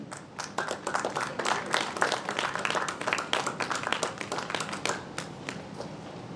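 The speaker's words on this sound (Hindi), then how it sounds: "ताली बजती रहें।" Audience applause fills an awards ceremony hall for young achievers, a sustained crowd of clapping hands at moderate loudness, without speech over it.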